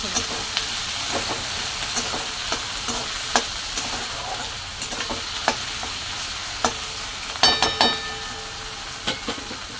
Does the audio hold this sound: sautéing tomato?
yes